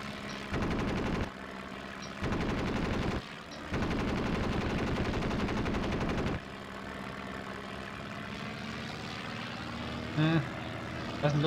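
Video-game aircraft strafing run over front-line trenches: three loud, sustained bursts of rapid automatic gunfire over a steady engine drone, with the engine continuing alone afterward.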